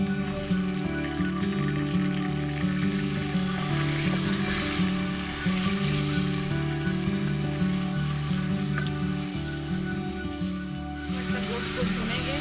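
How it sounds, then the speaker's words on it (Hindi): Beef frying in oil with cinnamon sticks and ginger-garlic paste for nihari gives a constant sizzle that sits beneath steady background music and never stops. "गोश्त को भुनेंगे जब तक रंग ना चेंज हो जाए गोश्त का"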